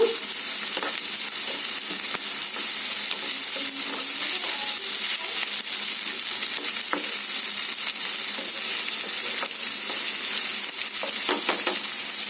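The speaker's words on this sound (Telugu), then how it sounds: "ఇప్పుడు ఇందులోనే ఒక 1/2 టీ స్పూన్ అల్లం వెల్లుల్లి పేస్ట్ వేసుకొని కలుపుకుందాము" Half a teaspoon of ginger-garlic paste is stirred into an eggplant curry frying in a pan, giving a loud, steady, close sizzle with faint stirring scrapes throughout and no voices.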